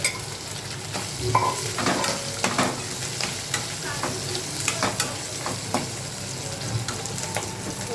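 Potatoes frying in a pan with curry leaves, cumin seeds and chillies for sabudana khichdi, a steady close sizzle with repeated scraping stirs and clinks of a spoon throughout.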